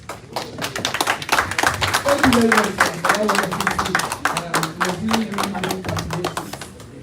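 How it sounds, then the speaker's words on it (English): Audience applause after a speech at an APC political gathering, with dense irregular clapping throughout while a speaker's voice talks over it. "Please, another wonderful round of applause for her, please."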